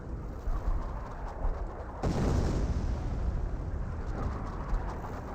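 A distant artillery barrage in the strategy game Company of Heroes, heard as a continuous low rumble. A heavier impact swells in about two seconds in, and the rumble then rolls on steadily.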